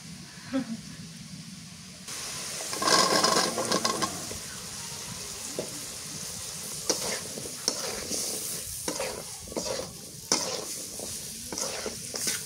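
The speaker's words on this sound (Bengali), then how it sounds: "মশলা কষানো হয়ে গেছে, এবার এই যে আলু দিয়ে দিই, বিলেতি আলু এটা।" Potatoes added to a fried spice masala in a pan, crackling sizzle under repeated scraping stirs of a spoon, with brief clatters between strokes.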